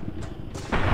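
A single heavy gunshot from a weapon in Fallout: New Vegas, a sharp deep boom near the end after a faint earlier pop, close and loud.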